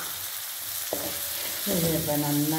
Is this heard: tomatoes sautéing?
yes